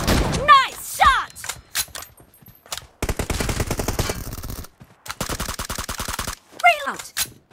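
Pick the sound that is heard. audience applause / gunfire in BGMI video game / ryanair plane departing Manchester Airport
gunfire in BGMI video game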